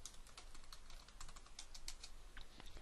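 A password tapped out on a computer keyboard in an office setting, a quick run of faint, closely spaced key clicks with no talk.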